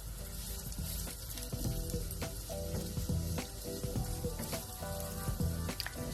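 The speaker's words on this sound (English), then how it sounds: "I'll pop that into the pan and fry that along with the onions" Lemongrass frying with onions in a pan for a pumpkin curry, with a continuous crackling sizzle and sharp spatter pops, heard alongside a tonal background.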